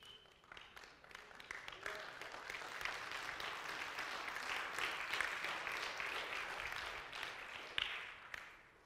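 Congregation applauding during a church sermon, a steady wash of clapping heard at a moderate distance that swells and then thins toward the end.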